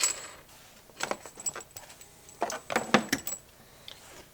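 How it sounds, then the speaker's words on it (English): Coax connector being unscrewed from an ICOM IC-7300 radio, heard as a few brief metallic clicks and light rattles in close, quiet surroundings. "Then we're going to unscrew our coax."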